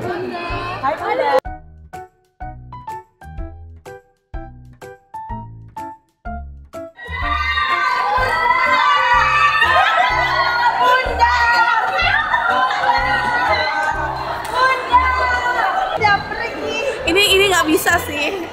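A crowd of people shouting and calling out together, heard first as short, rhythmic chanted calls with pauses and then as a continuous, excited clamour of many voices.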